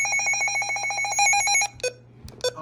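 A loud, rapid electronic warbling tone from a Midland HH54VP2 weather radio's alert test pulses steadily for well over a second, then stops, followed by a few short, sharp beeps.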